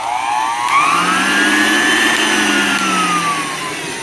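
A hand-held vacuum cleaner motor runs steadily and close, its whine rising in pitch as it spins up, holding, then sliding slightly down near the end.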